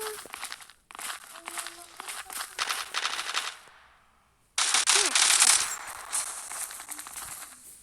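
Automatic gunfire in the online shooter Zula comes in rapid crackling bursts, a long stretch, a short pause, then another loud volley.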